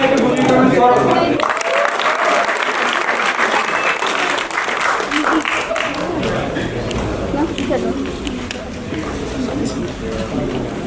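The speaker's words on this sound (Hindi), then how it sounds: "आप तालियां बजाते रहिए जैसे सम्मानित होते जा रहे हैं।" Prolonged audience applause at a stage performance as cast members are honored, a thick, continuous clapping crowd with some voices and cheering mixed in.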